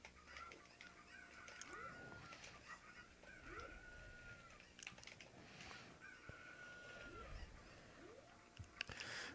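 Cuccos cluck and squawk in a Legend of Zelda video game, several repeated calls rising and falling at a low, even level amid soft game sounds.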